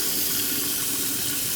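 Water gushes steadily from the kitchen sink tap of a 2024 Forest River Wildwood Grand Lodge 44VIEW RV, a loud, continuous, close rushing stream with no talk.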